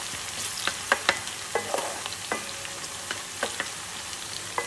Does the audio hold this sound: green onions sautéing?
yes